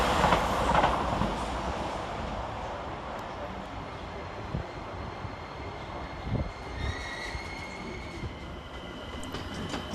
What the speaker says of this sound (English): Taking us very much by surprise is one of the Class 745s, working 1P62 from London Liverpool Street to Norwich.